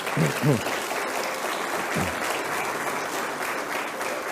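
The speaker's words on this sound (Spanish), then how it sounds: "Denle un aplauso al Señor." A church congregation applauding, a broad sustained wash of clapping, with a brief voice calling out near the start.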